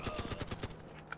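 Rapid automatic gunfire from a weapon in the military shooter game Running With Rifles, a tight burst of about eight sharp shots in the first two thirds of a second, then trailing into quieter in-game ambience with a faint later crack.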